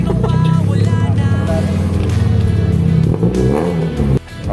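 A Honda Civic engine, just repaired after a rough idle, runs and revs loudly up close with a steady droning tone, then cuts off abruptly near the end.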